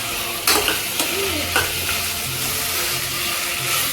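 Potatoes and peas fry in a pan for tomato bath, a steady close sizzle broken by repeated scraping stir strokes and light clinks of the spoon.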